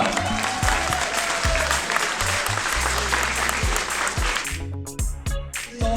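Audience applause at the opening of an award ceremony night, a dense sustained clapping that fades out near the end, with a voice over it at the close.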